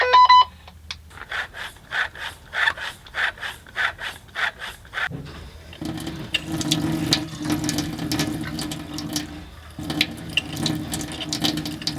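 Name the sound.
bicycle pump blowing water out of RV lines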